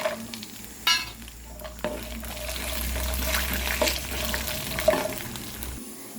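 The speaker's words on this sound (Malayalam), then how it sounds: "ഈ സമയം നമുക്ക് ക്യാഷ്യനായിട്ട് ചേർത്ത് കൊടുക്കാം" Cashew nuts fry in a pan with coconut as kadala payasam is prepared, giving a steady, fairly loud sizzle and bubbling throughout, with a few clinks from stirring.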